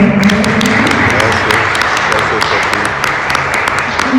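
Audience applause at a book presentation in Mexico, a dense steady clapping wash with crisp individual claps, mixed with voices and crowd murmur throughout.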